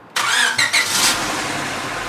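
An Acura Integra engine with power steering and A/C deleted cranks and catches with a couple of quick revs, then settles into a steady, close idle.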